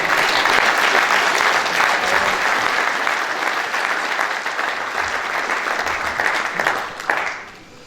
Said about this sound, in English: give him a quick round of applause